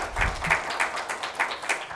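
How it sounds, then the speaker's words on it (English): Audience applause at a National Startup Day summit and startup awards event in India, heard as a fairly faint, steady patter of clapping with soft recurring swells through the two seconds. "Let's have a huge round of applause for all of us gathering here today."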